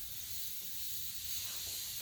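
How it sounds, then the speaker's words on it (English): Spray starch misting over a MARPAT uniform blouse, a soft, continuous hiss held at an even, fairly faint level with no voices. "From there, I'm spraying the entirety of the blouse."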